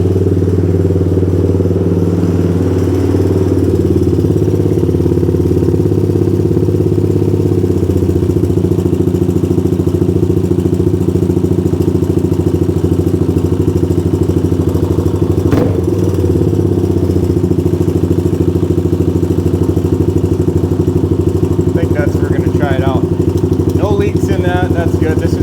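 A Honda 200X engine idles a little high, a loud, steady close-up drone with constant low throb throughout, a brief clatter midway and light rattling near the end.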